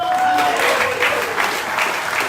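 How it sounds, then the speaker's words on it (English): Audience applause at a campaign announcement for a gubernatorial candidacy, a brief burst of steady clapping that stays loud throughout, with a faint tonal hum underneath. "please, a round of applause for my hardworking brother"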